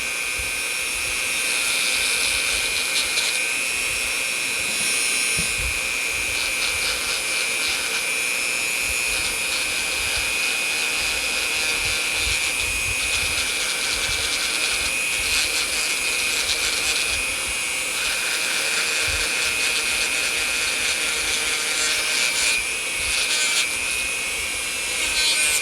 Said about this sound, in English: Yeah, we'll have to sand that.